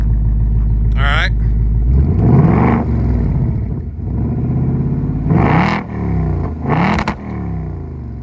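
A 2024 Ford Mustang with active exhaust set to track mode revs hard and loud at close range, its deep exhaust rumble rising and falling through several sharp throttle blips.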